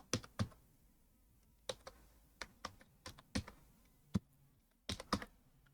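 Keys tapped on a computer keyboard while an email address is entered, quiet close clicks in short uneven bursts with pauses between, no talking.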